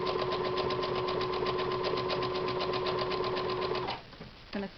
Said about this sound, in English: I'm going to do a secure stitch, and then I'm going to run all along that line.